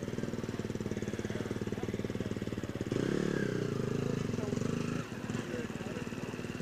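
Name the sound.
four-stroke Husqvarna motorcycle engine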